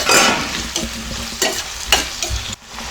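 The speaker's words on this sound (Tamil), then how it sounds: "இப்போ வெங்காயம் கருவேப்பிலை சேர்த்து நல்லா வதக்கிடலாம்" Onions, curry leaves and tomato sauté in oil in a pan for a brinjal gravy, a close continuous sizzle broken by several sharp stirring scrapes.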